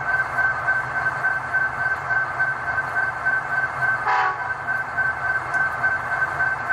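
An Athearn SD70ACe model diesel locomotive with a Tsunami 2 sound decoder idles with a steady droning rumble, broken midway by one short horn blast.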